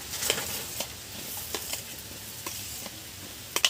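Vegetables are stirred into sooji upma frying in a pan, giving a soft steady sizzle broken by faint scraping and clinking strokes, quiet and close, with no voices.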